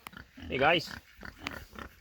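A pig on a tilled pen patch gives a short grunting squeal close by, among brief snuffling sounds, while someone speaks over it.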